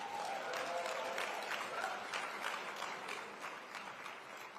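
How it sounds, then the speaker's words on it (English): A crowd at a Martin Luther King Jr. address in Dallas, Texas applauds a performer after a song, with steady, sustained clapping from many hands heard at a distance in a large hall. "Let's give her another round of applause."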